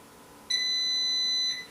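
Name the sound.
Instant Vortex Plus air fryer beeping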